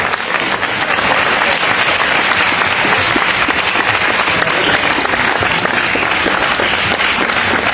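A political rally crowd in Côte d'Ivoire claps hard and without pause, a thick, steady roar of many hands filling the space, loud and near.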